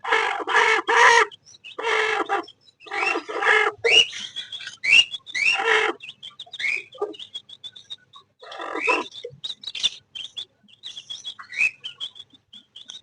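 Hens scuffle and squabble in a yard, giving repeated loud squawks and clucks in bursts, with high chirps scattered between them.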